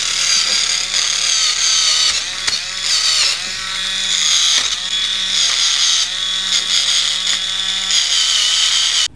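A PedEgg Bare Nails electric buffer whirs in repeated high-pitched bursts as it shines a fingernail, close and loud, with short breaks between passes.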